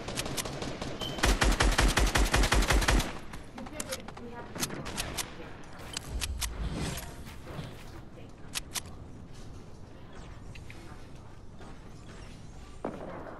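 Gunfire in the Fortnite battle royale game: a loud rapid burst of shots early on, then scattered single shots and short volleys, with players talking throughout.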